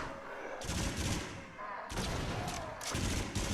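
Bursts of gunfire from the Until Dawn: Rush of Blood VR shooter game ring out in two loud, dense volleys separated by short pauses, with no talk.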